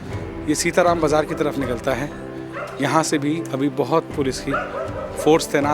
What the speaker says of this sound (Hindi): गलियों में कुत्ते भौंक रहे हैं।